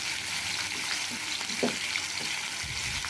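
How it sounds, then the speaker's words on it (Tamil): Tomato and onion paste frying in oil in a pan, a steady quiet sizzle with a few soft stirring scrapes near the middle, no talking. "இந்த பேஸ்ட் வந்து நல்லா எண்ணெயிலே வதங்கணும்"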